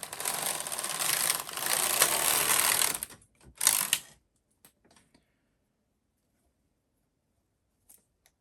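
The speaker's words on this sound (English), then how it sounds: "hold the leading side lever forward just enough for it to clear those B position needles, and keep it held until you've knitted the full row" A Knitmaster MK-70 knitting machine carriage is pushed across the needle bed for a full row, giving a loud rattling, clacking slide for about three seconds, then a short second burst and a few faint clicks in near silence.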